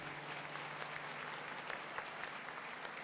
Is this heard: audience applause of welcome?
yes